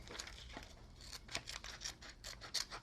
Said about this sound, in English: So I'm going to take my scissors and just split them up real quick.